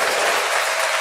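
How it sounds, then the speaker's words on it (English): A burst of steady applause fills the moment, many hands clapping in a dense, even wash of sound at close range, with no voices over it. "Hey, round of applause, man."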